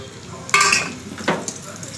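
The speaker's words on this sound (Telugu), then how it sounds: "ఇప్పుడు కొంచెం పచ్చిమిర్చి వేసుకుందాం ఆయిల్లోనే." Green chillies fry in hot oil in a home kitchen: a sudden burst of sizzling when they hit the pan, then crackling and a clink of utensil against the pan.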